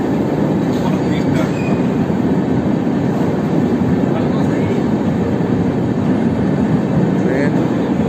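Passenger train pulling into platform 2 at Muzaffarpur station in Bihar, a steady loud rumble of wheels and carriages rolling continuously, with faint higher squeals and station noise, a voice speaking over it.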